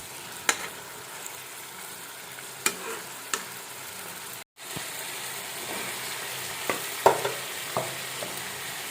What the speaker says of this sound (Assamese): লাৰি দিব মাংসটো।